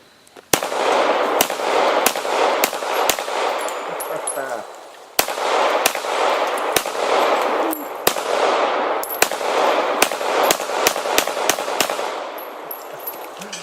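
A CZ 75 pistol fires about a dozen sharp, loud shots at a pumpkin target outdoors, spaced irregularly, each crack followed by a broad echoing rumble.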